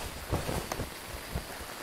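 Steady, faint rain at a campsite in the game Phasmophobia, a soft continuous hiss with a few low dull thumps.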